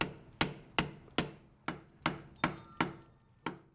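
A flat screwdriver being tapped into the seam of a Subaru Legacy/Outback TR690 transmission pan, eight sharp evenly spaced metallic knocks, close and alone.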